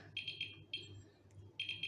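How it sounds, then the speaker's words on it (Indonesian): A SkyRC NC2500 Pro battery charger gives off short, high electronic beeps in quick clusters of three, then one single beep and another burst of three, against a quiet room background. "buat teman-teman yang mungkin agak sedikit risih sama bunyi bip bip bip bip bip, bisa disetting di sini"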